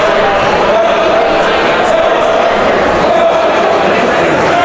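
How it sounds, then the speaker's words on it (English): A swim team cheers for a teammate finishing a 100-yard breaststroke heat at an indoor high school pool, a loud, steady crowd roar with shouting voices that holds for the whole span. "Isaac's getting the cheering from his team as he finishes up."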